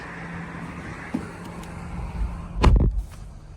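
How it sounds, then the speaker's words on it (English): Muffled road traffic rumbles steadily outside a closed 2024 Porsche Cayenne, with one vehicle swelling loudly as it passes close by before fading. "We've got all this traffic outside."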